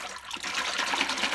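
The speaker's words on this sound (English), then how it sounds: "I'm going to mix the water up." Lukewarm water and shampoo swirled together by hand in a basin for washing a human hair wig, giving a steady, close sloshing and rushing of water with no pauses and no voices.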